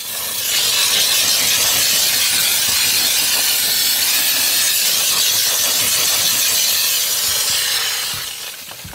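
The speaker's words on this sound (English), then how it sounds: "I'm moving the steamer head very quickly. I'm using no chemicals." An auto detailing steamer blows steam over a car interior with no chemicals, making a loud, steady, continuous hiss close by for several seconds before it tapers off near the end.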